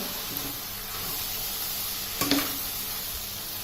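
Boiled peas being stirred and mixed in a hot pan for Mumbai pav bhaji, a steady sizzle throughout with a brief louder scrape and clatter of the spoon near the end, no talking.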